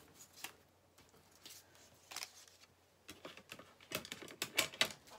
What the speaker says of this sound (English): Let me just cut it out for you.